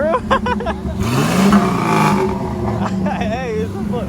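A V8 car engine revs at a car meet, its throaty roar rising and holding loud and close while people talk and shout over it.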